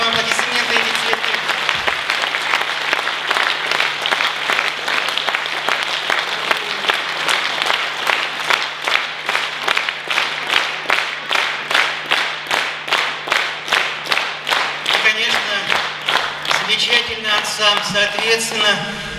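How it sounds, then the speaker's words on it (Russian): Audience applause and clapping for a Russian musician at a "Silver Strings" honoring event, with flowers being presented; a sustained, dense round of clapping that turns into steady rhythmic unison claps and then breaks up near the end. "Еще раз вам аплодисменты и цветы."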